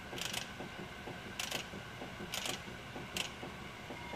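A Pro-Cut PFM 9.2 brake lathe starting up gives short bursts of mechanical clicking and whirring about once a second over a low running hum, close and fairly quiet.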